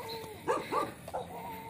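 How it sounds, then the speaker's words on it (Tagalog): Several dogs barking at night near a hillside biker's cafe, a few short close barks in quick succession over a quiet background. "Inarangan na naman ako ng aso."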